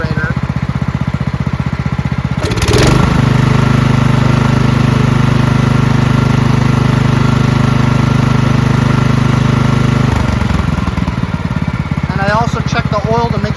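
A small carbureted engine, suspected of flooding from a needle valve that isn't seating, is started and runs steadily at a loud idle for about seven seconds, then cuts off. The engine noise rises and falls around it.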